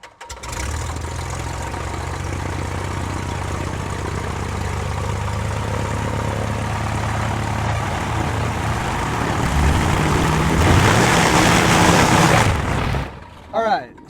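A Cessna 172 engine runs up steadily during propeller balancing, a loud continuous drone that swells near the end before cutting off abruptly, then a brief burst of noise.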